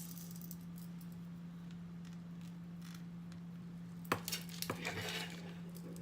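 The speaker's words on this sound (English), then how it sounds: "I'm just moving this pot here, sorry" A cooking pot shifted on a stovetop makes a brief metallic clank and a couple of rattling knocks near the end, over a steady low hum, with no one speaking.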